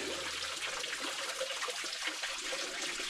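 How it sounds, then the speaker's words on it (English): Creek water rushes steadily through the narrow Kolob Canyon gorge in Zion National Park, Utah, a continuous broadband wash that stays even and close throughout with no voices. "the creek is running again"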